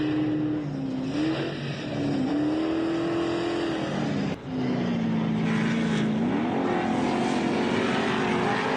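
An off-road Jeep in a MetalCloak Stampede race roars past with a steady droning engine note that rises and falls as it shifts and accelerates, loud and close with a brief dip mid-pass.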